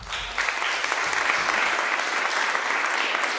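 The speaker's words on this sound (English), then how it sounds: "There's so much applause." An audience at a music therapy anniversary celebration breaks into loud, sustained applause, a dense, even roar of many hands clapping that swells in quickly and holds strong.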